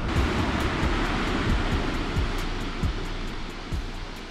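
Ocean surf on an Albanian beach rushes and breaks in a loud, continuous wash, with wind buffeting the microphone and low thumps from the water close by; nobody speaks.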